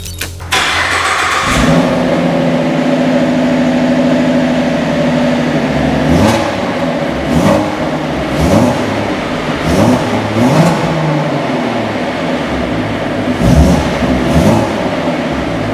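A 2014 Ford Mustang with a 3.7 V6 engine and stock exhaust starts up with a sharp crank, settles into a loud idle, then gets blipped through repeated short revs close to the listener.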